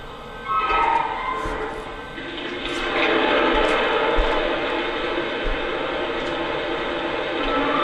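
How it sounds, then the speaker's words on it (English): Steady hissing rush of water from the injector on a Lionel Nickel Plate Road 2-6-6-2 Mallet model steam locomotive, starting abruptly, continuous and fairly loud with a faint background murmur. "Here's the water injector sound."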